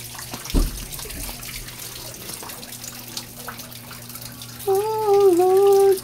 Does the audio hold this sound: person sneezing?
no